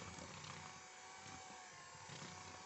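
An electric hand mixer beats Ferrero Rocher cookie dough with a continuous close, whirring buzz that holds steady for the couple of seconds heard.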